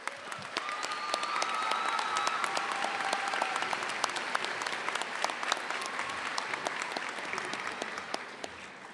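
Audience applause fills a graduation ceremony hall, steady dense clapping from a large crowd that holds throughout, with faint voices and a few sharper claps poking through.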